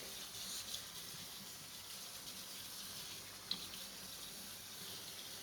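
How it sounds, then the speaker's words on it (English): Tap water runs steadily into a sink while a tie-dyed shirt is rinsed, a constant close hiss and splash with no talking. "And we're gonna rinse this out until it becomes mostly clear."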